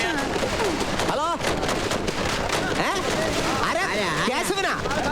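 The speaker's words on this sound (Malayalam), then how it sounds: "ആരും മടിക്കാതെ കടന്നു വരൂ, പടക്കം പൊട്ടിച്ച് ആഹ്ലാദിക്കൂ." Firecrackers burst repeatedly during a celebration in an old comedy film scene, with whistling rising bursts and sharp cracks over a noisy crowd as people talk throughout.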